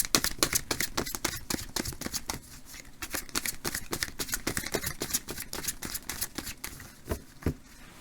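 Tarot cards being shuffled before drawing an advice card: a steady, rapid run of papery riffling and flicking, close and fairly soft, continuing with only brief pauses and no speech over it.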